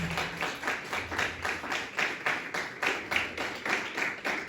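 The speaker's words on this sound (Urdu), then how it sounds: "زوردار تالیاں خدا کے جناب" A church congregation at a Christmas service claps loudly together, the dense, steady clapping repeating in rhythmic bursts for a few seconds.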